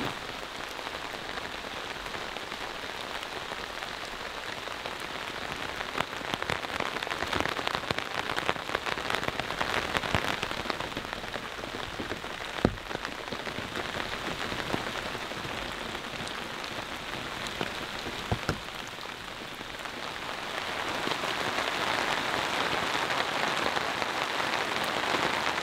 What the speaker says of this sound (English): The rain is coming down good enough